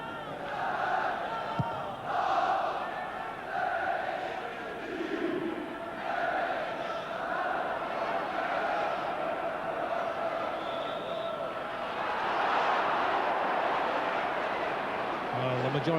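Large football crowd at a Norwich City versus Arsenal match voicing loud, sustained disapproval of a referee's decision, a broad rumbling roar swelling near the end.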